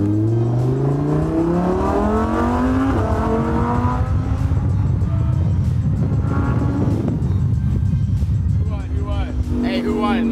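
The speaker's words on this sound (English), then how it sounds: "What the Lambo sounds like right now" A Lamborghini on its stock exhaust revs up repeatedly, the engine note climbing in rising sweeps and dropping back, loud and close, before a final burst of quick revs.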